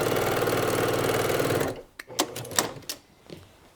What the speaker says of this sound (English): So we're going to go down here and sew this line.